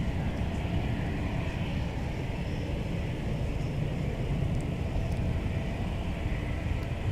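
An airliner takes off at MSP airport with its gear retracting, a loud continuous low-heavy jet roar and rumble held steady throughout, heard at a distance and with no voices over it.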